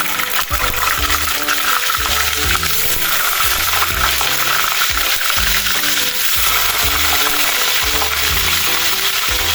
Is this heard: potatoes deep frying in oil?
yes